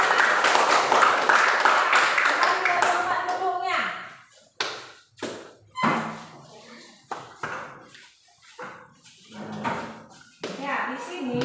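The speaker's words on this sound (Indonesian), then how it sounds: "Kita beri tepuk tangan untuk kelompok 4 yang lebih lengkap hasil presentasinya ya" Classroom applause for a presentation group, a loud burst of many students clapping at first that fades within a few seconds, followed by a teacher speaking with short pauses.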